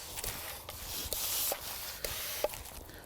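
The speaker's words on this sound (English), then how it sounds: "So I'm going to finish off spraying this section that I missed" Sprayer misting insecticide over a citrus tree section outdoors, a steady broad hiss running throughout with a few soft clicks and rustles of leaves and footsteps.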